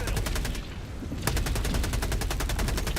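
Fast automatic gunfire in Helldivers 2, loud and close, with rhythmic bursts that pause for a moment early on and then resume as a steady rattle.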